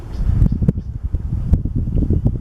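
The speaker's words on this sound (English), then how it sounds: "Moving, wind is blowing me." Wind buffeting a microphone on a kayak on the Hillsborough River, a steady low rumble of gusts with soft rustling throughout, loud and close, no talking.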